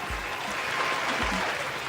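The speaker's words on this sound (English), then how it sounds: "Let me get the round of applause real quick." Steady round of applause from a studio audience on a podcast show, moderately distant and sustained across the whole moment with no talking.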